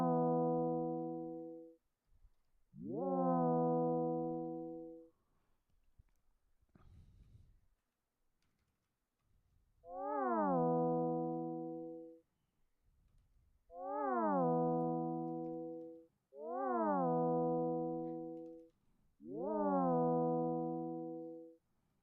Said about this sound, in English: That's basically the cat synth, man.